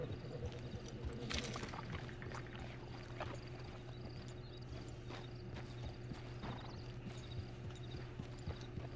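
Horse hooves clip-clop steadily through the Red Dead Redemption 2 video game, a continuous rhythmic beat over a low ambient hum with faint background activity.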